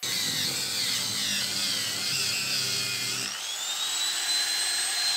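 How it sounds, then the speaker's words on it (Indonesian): A Magtek MT90 grinder fitted with a cylinder sanding pad and 180-grit paper sands a wooden chair, giving a steady high whine with a rough scraping layer that eases as the tool lifts off, near and constant. "Sama, amplasnya juga masih menggunakan gerinda dari Magtek MT90."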